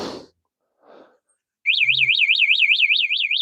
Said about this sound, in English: when I put the alarm on and somebody tries to move it, the back wheel locks up. And the alarm's loud